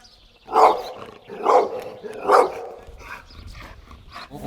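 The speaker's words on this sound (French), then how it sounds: "On te suit avec les aboiements de chien" A dog barks three times in a steady rhythm, each bark loud and close, followed by quieter yips and whimpers on a quiet outdoor roadside.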